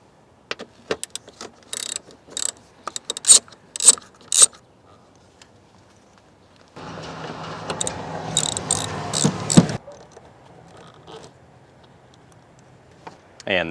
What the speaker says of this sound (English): Now on this assembly, there are two bolts that we need to loosen and remove.